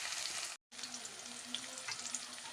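Steady broadband sizzle of urad dal, mustard seeds, tomato and onion frying in hot oil, continuous and close with a brief dropout partway through, no talk.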